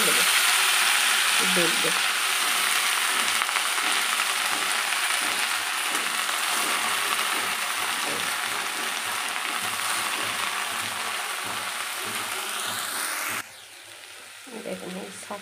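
Leafy greens fry with cumin in a pan as a steady, dense sizzle that runs almost the whole time and drops off sharply near the end. Scraping and stirring noises sit on top, and a voice speaks briefly.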